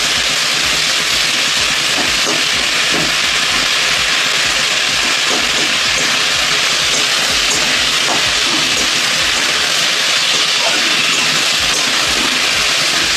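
Ginger with salt and turmeric frying in a little oil gives a steady, loud broadband sizzle and hiss that runs unbroken throughout, with faint clinks underneath and no voices.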